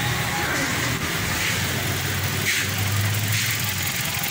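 A Toyota Corolla 1.6 engine, freshly tuned with an oil change, idles steadily outdoors at low RPM, a smooth, even hum with a faint mechanical ticking running under it.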